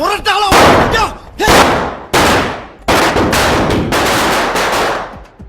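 Diwali firecrackers burst in rapid crackling volleys, several loud sharp bursts in a row, close by and continuous.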